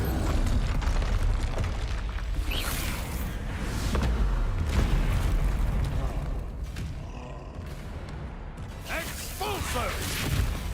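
Spell blasts from Confringo and Incendio in the Hogwarts Legacy video game crackle and boom in a dense, continuous battle mix, with repeated bursts and whooshes layered over game sounds and a voice calling out spells.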